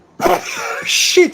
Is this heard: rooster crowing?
no